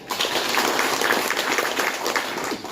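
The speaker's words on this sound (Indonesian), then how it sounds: "Kita berikan tepuk tangan." Audience at a Bawaslu inauguration and oath-taking ceremony in North Toraja applauding, a continuous spread of many hands clapping at moderate distance in a large hall, without speech.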